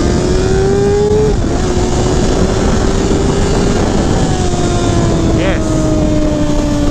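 A 2019 Kawasaki Ninja ZX-6R engine screams at high RPM, a loud sustained whine with slight pitch shifts through gear changes, heard close over wind rush; a rider talks over it.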